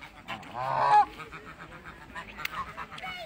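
Waterfowl at a farm pond in Northampton, England, one loud nasal honking call up close followed by softer scattered calls and quacks in the background.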